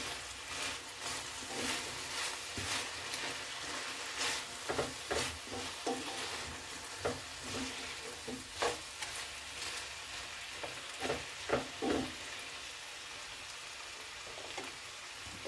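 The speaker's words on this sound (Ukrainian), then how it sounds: "Перемішуємо і обсмажуємо ще пару хвилин." Steady sizzling of meat and onions frying in a pan, with scattered scraping and clinking as it is stirred, continuous and close.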